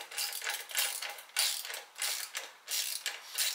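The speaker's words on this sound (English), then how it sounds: "So loosen up this one here, and this got a 13mm bolt on the back side you gotta get a hold of." A ratchet wrench works a 13mm bolt on the exhaust of a KTM 1290 Super Duke R motorcycle, giving close, repeated clicking bursts of a few strokes each, quiet and without talk.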